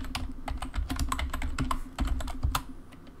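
Quick, uneven bursts of keystrokes on a computer keyboard used with a PowerMac G5, close and clear with no talking.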